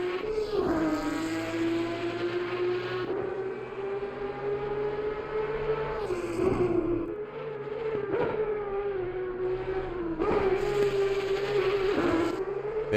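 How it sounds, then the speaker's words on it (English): A Porsche race car engine in the Assetto Corsa Competizione racing game, heard at Bathurst, holds a loud, steady high-revving drone with rising gear pulls and brief shift drops, continuous and close without talk. "Let's have a listen to this Porsche a minute. This engine is the loudest engine in the game."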